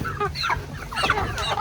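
Several Hubbard broiler chickens cluck and squawk close by in quick, overlapping bursts.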